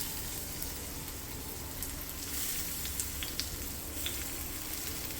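Washed moong dal and rice frying in ghee in a pan for kara ghee pongal, a soft continuous sizzle with faint stirring clicks, fairly quiet and steady, with no one speaking.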